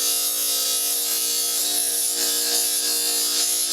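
A 1/3 hp Baldor buffer polishes the rough saw-cut edge of a piece of aluminum, producing a continuous, close, high-pitched grinding whine that stays steady and loud throughout.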